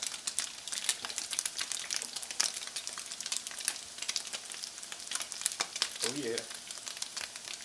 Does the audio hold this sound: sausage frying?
yes